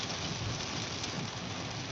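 Steady, dense rain drums heavily on a car during a ride, a loud continuous wash of drops with no voices.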